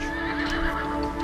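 A horse at the mountain stables of Koele Lodge on Lanai gives a single drawn-out whinny, close and clear, with no voices.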